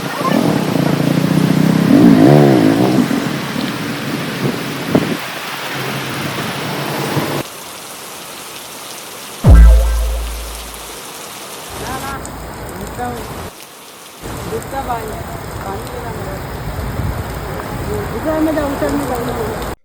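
Rain falls steadily with muffled rushing noise, broken by voices, a passing engine, and abrupt shifts in the background as things move around.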